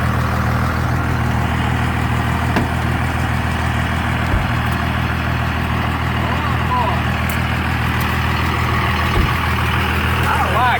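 Cummins 5.9 diesel truck with a 5-inch straight pipe exhaust and 24-inch tail tip, idling in a steady, loud, deep rumble that holds for the whole stretch with no pauses.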